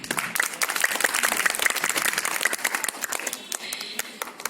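A school audience at a high school quiz programme in Nagpur breaks into sustained, loud applause, many hands clapping at once in a dense, even roar that thins slightly toward the end.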